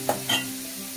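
Luchi, a puffed Bengali flatbread, deep frying in hot oil in a village kitchen, with two short bursts of sizzling and bubbling before a quieter steady fry.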